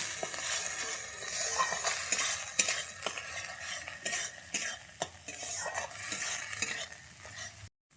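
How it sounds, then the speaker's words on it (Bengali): Ginger-garlic paste fries in a pan for Bengali rui fish kalia, a steady close sizzle under repeated scraping and light clinks of a stirring utensil, cutting off abruptly at the end. No talking. "আদা রসুনটাকে আমি এবারে আরেকটু ভালো করে ভেজে নেব"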